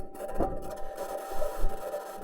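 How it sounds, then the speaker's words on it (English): Perseverance rover rolling on its metal wheels across Mars: quiet, uneven grinding and rubbing with intermittent creaks and scrapes, alongside a faint steady mechanical tone, all fairly low in level. "This is the sound of the Perseverance rover driving on its metal wheels."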